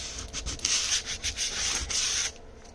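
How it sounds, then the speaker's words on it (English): Sanding to scuff the surface of repurposed packaging for a journal holder, rapid back-and-forth abrasive rubbing, close and steady for about two seconds before stopping. "go across it really quickly to try to scuff it up"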